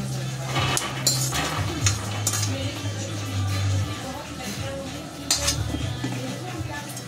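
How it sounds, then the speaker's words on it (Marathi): Freshly roasted peanuts are scraped out of a kadhai onto a metal plate with a spoon, producing repeated sharp clinks and scrapes over a low steady hum, with a voice speaking now and then. "आपण ही शेंगदाणे झाले भाजून, तर काढून घेऊया ताटामध्ये"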